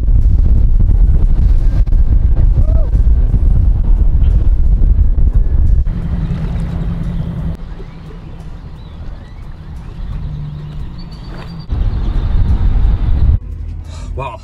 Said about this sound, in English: it's windy or whatever